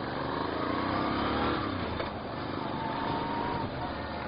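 A 2016 Moto Guzzi V7 Stornello scrambler rides through city traffic, its engine droning steadily under heavy wind rush, with a brief rise in revs near the start and no talking.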